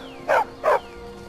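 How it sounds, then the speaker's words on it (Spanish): A dog in the video game Skyrim gives two short, loud barks in quick succession over a low, steady game ambience. "Teóricamente es un perro, pero tiene una cara un poco rara."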